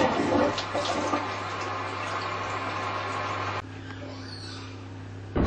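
A toilet flushes with a steady rush of running water over a low electrical hum, the flow dropping sharply to a quieter trickle partway through before a brief loud burst at the end.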